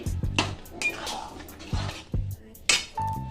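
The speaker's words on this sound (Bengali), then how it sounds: "আর এই ভেজে রাখা ডিমগুলো এবার আমি এর মধ্যে দিয়ে দিলাম" Fried eggs dropped into a simmering egg tadka gravy in a metal pan, giving a few soft clattering thuds and utensil clinks with light bubbling between them, close and moderately quiet.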